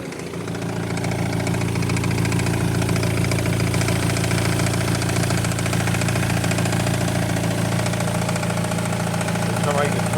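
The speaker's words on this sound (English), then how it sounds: "That rattling is the AC compressor." BMW X3 idling with its AC compressor rattling, a steady close engine drone with a faint metallic rattle layered on top throughout.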